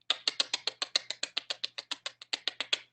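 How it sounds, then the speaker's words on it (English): A cave-dwelling bat's echolocation tongue clicks repeat in a fast, steady train of about twenty sharp, evenly spaced clicks, close and clear with no talking. "It's a tongue click. Tongue clicks over and over and over again."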